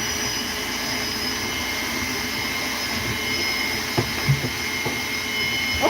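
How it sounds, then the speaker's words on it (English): A vacuum cleaner runs steadily inside a Ford Transit campervan, a constant close whirring drone with a few faint knocks and bumps near the end. "Okay, it's vacuuming."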